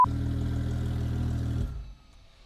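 Engine of a Porsche 911 Turbo pulling across a parking lot, a close, steady low rumble that holds evenly, then cuts off abruptly and fades to quiet.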